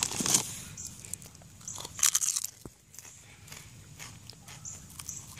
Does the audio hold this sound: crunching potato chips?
yes